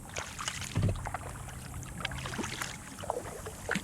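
Paddle strokes and light water splashes from an 11-foot homemade foam-and-fabric kayak on a lake at Sugar Land Memorial Park, a few soft dips and drips close by over steady outdoor background noise.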